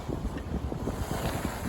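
A sailboat under motor pounds upwind through waves, with rushing water, irregular slapping thuds against the hull and wind noise buffeting the microphone, close and continuous.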